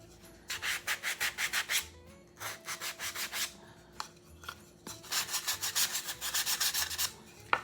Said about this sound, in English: I'm going to take the sanding block, just kind of smooth that out a little bit